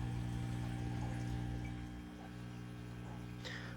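Quiet trickle of water pouring into a planted nano aquarium during a water change, a soft steady flow over a low constant hum.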